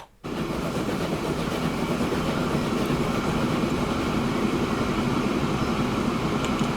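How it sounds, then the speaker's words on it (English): A passenger train running in Transport Fever 2 gives a steady rolling rumble with a faint rhythmic clatter of wheels on track. It starts abruptly after a short silence and stays even throughout, with no talking. "there's our first train"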